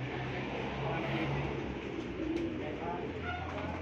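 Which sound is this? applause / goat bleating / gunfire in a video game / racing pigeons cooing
racing pigeons cooing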